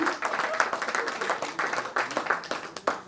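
An audience claps in bursts at a network marketing seminar in India, the applause rising and fading in uneven waves with a voice faintly under it.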